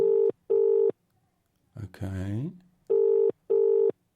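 Phone ringback tone during an outgoing call: two steady beeps, a short spoken word from someone nearby, then two more beeps, all close and clear.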